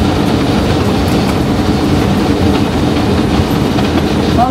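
Train running on rails, a loud, steady rumble of wheels with rhythmic clatter throughout, heard close and without talk.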